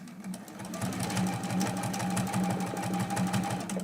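A sewing machine stitches a quilt-as-you-go Christmas quilt block, running in a fast, even mechanical chatter close by for several seconds without pause.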